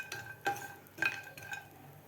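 Grated coconut being dry-roasted in a pan while a spoon stirs it, giving a few soft scraping strokes against the metal with a light background hiss, close and fairly quiet, no talking.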